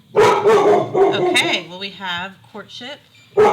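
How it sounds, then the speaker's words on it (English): A household dog barks several times in short sharp bursts close by, mixed in with someone talking throughout. "Sorry about the dog."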